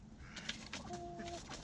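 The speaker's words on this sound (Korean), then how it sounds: "조금 전부터 암탉 한 마리가 닭장 밖에 있는 암탉과 시비가 붙어서 싸움박질을 하고 있다" Hens cluck and squawk in a coop as one fights with another hen outside it, short sharp calls and a couple of drawn-out notes, faint and moderately distant.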